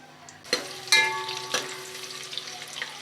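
Chopped onion dropped into hot oil in a pressure cooker, several sharp sizzling bursts as pieces hit the oil, then a settling crackle with faint clinks, close and without talk.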